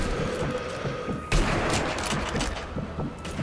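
Gunfire in the video game Sniper Elite V2: a sharp, loud shot bursts out amid a dense, noisy battle backdrop, followed by a second crack near the end.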